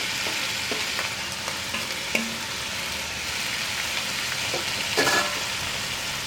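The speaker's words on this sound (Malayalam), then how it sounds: "ഈ വെളിച്ചെണ്ണ ചൂടായി തുടങ്ങുമ്പോൾ നമ്മൾ മുറിച്ച് വെച്ചിരിക്കുന്ന കഷ്ണങ്ങളെല്ലാം ഒരുമിച്ച് തന്നെ ചേർക്കുക." Cut vegetables for Kerala sadya avial fry in hot coconut oil in a pan, a loud, steady sizzle with occasional scraping stirs and clinks close by.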